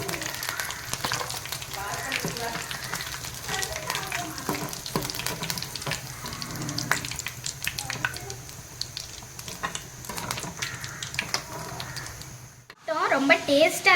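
Mushroom 65, mushroom pieces deep frying in hot oil, giving a steady dense sizzle and crackle that runs throughout, nearby and fairly loud, with a brief drop near the end.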